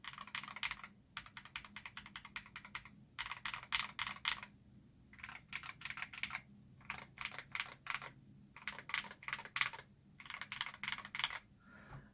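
Bursts of clacky mechanical keyboard typing on PBT keycaps of several profiles, including SA and OEM, several separate runs of rapid keystrokes broken by short pauses, close and clear with no talking.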